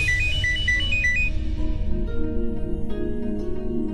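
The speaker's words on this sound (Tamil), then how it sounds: "டாக்டர் ஃபோன் பண்றாங்க." A phone rings with a repeated electronic ringtone melody, steady and fairly loud, in a scene from a Tamil TV serial as a doctor calls.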